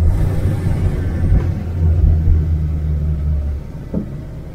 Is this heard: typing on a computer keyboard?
no